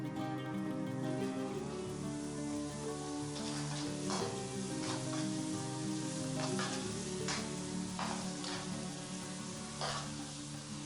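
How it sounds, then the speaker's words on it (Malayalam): Pappadam pieces frying in small batches in coconut oil in a pan, giving a soft continuous sizzle with crackling bursts and light stirring, fairly quiet and close. "പപ്പടം കുറച്ച് വീതം ഇട്ടിട്ട് വറുത്തെടുക്കണം"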